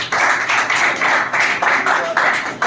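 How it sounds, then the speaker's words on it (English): Clapping from an audience during a spoken English lesson, a steady run of dense, loud claps lasting a few seconds with short dips between bursts. "Clap for this line."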